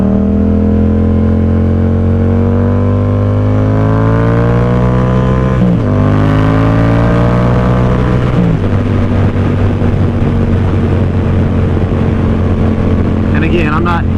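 A 2018 Yamaha XSR700 motorcycle engine drones loudly while riding, its pitch rising and falling as it shifts and decelerates, with rough crackle on the overrun.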